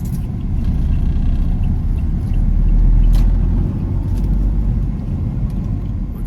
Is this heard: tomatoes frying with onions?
no